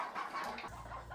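Brown ducks on a small farm near their coop give soft, low quacking and murmuring calls, faint and somewhat distant, over a muffled outdoor background with no talking.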